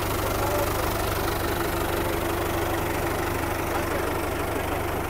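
A New Holland 850 (Al Ghazi NH850) tractor engine idles nearby as a steady, even low diesel rumble that holds unchanged for the whole stretch.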